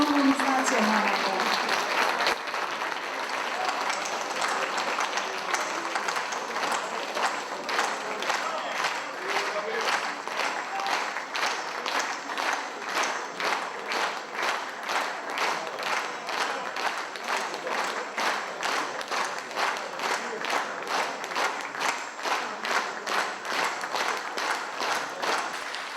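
Sustained applause from a festival crowd at a folk fest in Vladimirovo, loud and continuous throughout, settling into a steadier rhythmic clapping toward the end.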